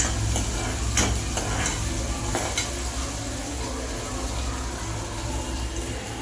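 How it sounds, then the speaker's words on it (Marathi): Tomato fries in oil in a home kitchen, a continuous soft sizzle under sharp stirring scrapes and a few clacks of a spoon against the pan, close and steady. "टोमॅटो थोडंसं चांगलं फ्राय होऊ द्यायचा."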